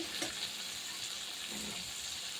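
Small puti fish frying in oil in a pan, a soft steady hiss and faint spatter close by, fairly quiet and without talk.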